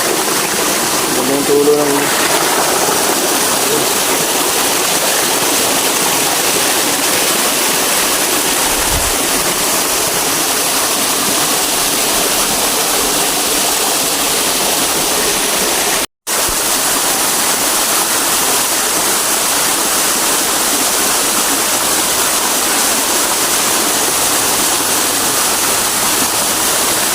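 Steady broadband rush of a waterfall pouring into a pond on a farm, continuous and loud throughout, with a brief voice near the start.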